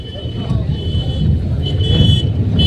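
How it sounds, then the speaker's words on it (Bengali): A car pulling into a parking area at New Digha, its low engine rumble and road noise steady and close inside the cabin while someone talks over it. "তো নিউ দীঘা ঢুকে গেছি এবার গাড়িটা পার্কিং করতে হবে"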